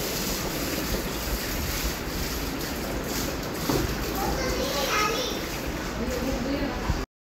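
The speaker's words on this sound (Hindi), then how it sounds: "ये बारिश का पानी आ रहा है हमारी छत से नीचे।" Steady broadband rush of rainwater pouring down from a roof during a thunderstorm, continuous and fairly close, with a faint voice partly audible beneath the splashing.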